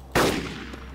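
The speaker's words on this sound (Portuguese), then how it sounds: "Dá mais um tiro aqui" A single sharp gunshot in the zombie game DayZ Epoch bursts out, loud and close, then trails off into a lingering echo with faint game ambience underneath.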